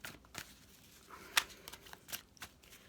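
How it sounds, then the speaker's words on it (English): Deck of reading cards being shuffled, with a run of soft papery riffles and flicks, one sharper snap near the middle, heard close and quiet with no talking. "give your cards a bit of a shuffle"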